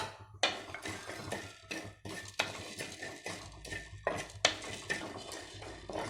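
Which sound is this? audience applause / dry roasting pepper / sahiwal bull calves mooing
dry roasting pepper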